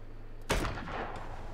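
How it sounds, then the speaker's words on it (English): A single sharp, booming launch of an acid mortar aboard a ship in the Abandon Ship video game, one loud thump with a short rumbling tail fading over about a second. "this acid mortar works great"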